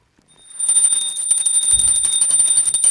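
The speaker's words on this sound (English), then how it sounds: "please ring the bell as you do so" A small hand bell rings continuously during a puja offering, a fast steady metallic jingle that starts up and stays loud and close, with no talking over it.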